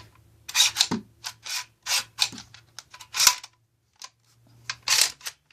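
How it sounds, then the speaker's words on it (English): Bolt of a black full-metal VFC FN SCAR-L MK16 airsoft AEG pulled back until it locks, close-up clicks, rasps and a sharp metallic snap in short bursts over a low hum. "you're going to pull this back right here"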